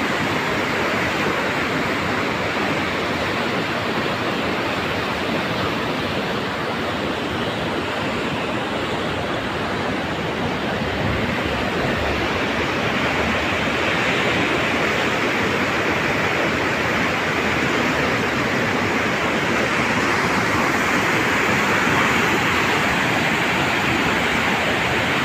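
Rushing floodwater from a flood in Raisen pouring across a road, a loud, steady broadband roar of turbulent water that continues unbroken close to the microphone throughout.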